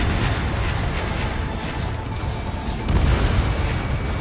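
Bombs dropped from a fighter jet in the flight combat game Ace Combat 7 on a pipeline destruction mission, heard as a continuous, dense rumble of booming explosions with a heavier blast near the end.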